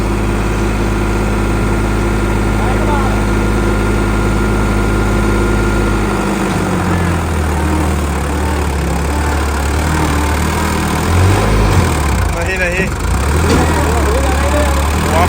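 A Farmtrac tractor engine idles with a steady low rumble that continues for the whole stretch, and its pitch and load change slightly about halfway through.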